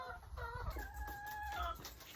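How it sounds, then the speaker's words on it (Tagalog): Farm chickens cluck and call close by in a short burst, with one drawn-out tonal call in the middle, no talking. "Yan lang yung mga manok ko mga ka-farmers."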